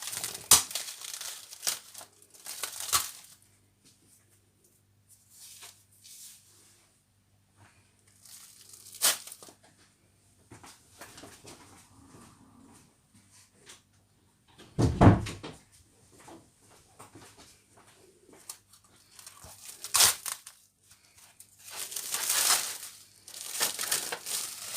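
Packaged items being unwrapped and unpacked while preparing speculoos mousse, scattered crinkling, rustling and clunking bursts separated by quiet gaps, close and fairly soft.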